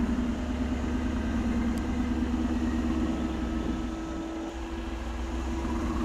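Mercedes G-Class G63 crawling forward off-road in low range, a steady low engine drone and drivetrain hum running continuously at moderate level without talk.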